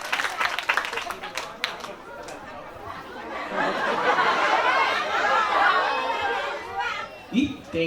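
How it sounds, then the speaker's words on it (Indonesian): Audience applause at a Balinese bondres comedy show during a temple ceremony, a broad sustained wash of clapping swelling after a few seconds of crowd chatter and lasting to the end, with voices around it. "Betul sekali, tepuk tangan."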